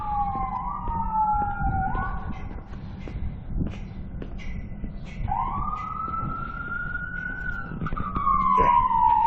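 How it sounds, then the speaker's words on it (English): An ambulance siren wails on a small-town street in Nevada. Its rising and falling sweeps repeat over the hum of road traffic and grow louder toward the end. "There's an ambulance there too."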